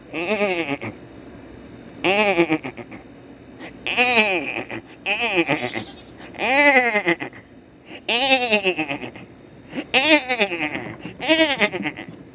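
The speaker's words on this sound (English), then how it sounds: "these goats will literally hang out by my bedroom window" Goats bleat repeatedly just outside a bedroom window, a run of about ten loud, quavering calls coming every second or so with short gaps, close by and with no talking over them.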